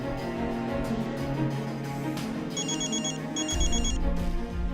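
A telephone rings in two short electronic bursts over a steady background, and nobody answers the call.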